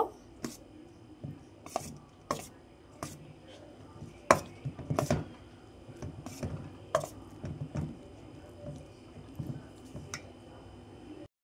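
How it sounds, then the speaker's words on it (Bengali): Rice flour mixed into ripe palm pulp in a bowl, a quiet scraping base broken by irregular knocks and taps against the bowl, spaced unevenly throughout. "এবার এটাতে পরিমাণ মতন চালের গুঁড়ো মেশাবো"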